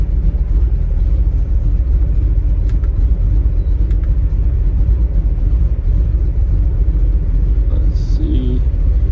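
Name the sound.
1931 Chevrolet hot rod small-block engine running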